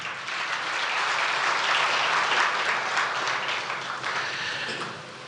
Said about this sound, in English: let us clap for them wherever they are